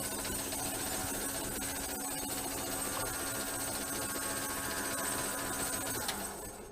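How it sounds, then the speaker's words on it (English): A metal lathe runs with a steady, even mechanical hum and whir at moderate level, unchanging throughout before tapering off slightly at the very end. "we're going to turn the lathe on."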